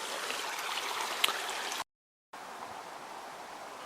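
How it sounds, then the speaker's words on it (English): A small stream near Loch Lomond in Scotland flows nearby with a steady soft rush and light gurgle, faint and continuous, broken by a brief moment of silence partway through. "This is my water source for today. This little stream."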